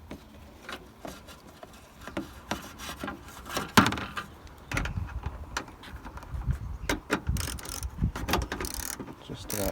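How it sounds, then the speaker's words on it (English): Ratcheting clicks from a 10mm socket on a long extension bar, working under a Land Rover Freelander 2 while fitting the bumper cover; close, irregular mechanical clicking and clattering in short bursts with no voices. "So 10mm socket on a long extension bar."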